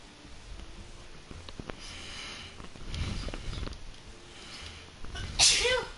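A single sharp sneeze bursts out close to the microphone near the end, preceded by soft sniffing and low background noise during a game stream.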